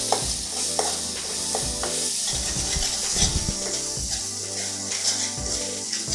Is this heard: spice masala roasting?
yes